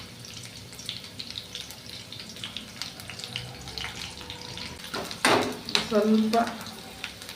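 Mustard seeds spluttering in hot oil, then onion and curry leaves dropped in and frying, a soft crackling sizzle that flares into a louder burst of hissing near the end, with a brief spoken word.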